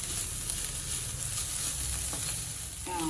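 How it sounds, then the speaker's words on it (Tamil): Chopped onions sauté in a pan for fish cutlets, giving a steady, close sizzle and frying crackle throughout with no talking. "வெங்காயம் நல்லா வதங்கிருச்சுது."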